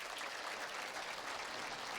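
A crowd at the 2020 Molson Masters bowling tournament, Open Division, claps steadily in a dense, continuous patter of applause with no talk over it.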